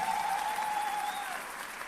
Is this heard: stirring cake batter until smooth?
no